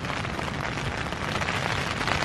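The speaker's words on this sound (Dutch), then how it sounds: "Het regent, onze tent wordt heel erg nat." Rain patters on a soaked tent in a park in New Zealand, a dense, even hiss of drops close by with no talk.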